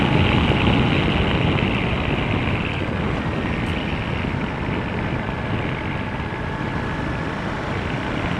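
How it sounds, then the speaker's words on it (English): Ducati Multistrada 950S motorcycle engine braking on a rough, potholed road: a continuous broadband engine and wind roar, steady and loud throughout with no clear pauses, heard from the riding position. "Yeah, plenty of engine braking."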